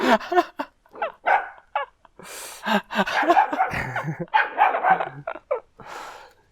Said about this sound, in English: Oh no, the dog.